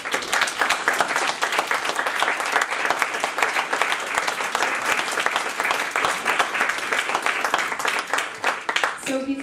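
Dense, sustained applause from a graduation ceremony audience in a hall, many hands clapping steadily and loudly throughout, with crowd murmur mixed in and a brief voice at the very end.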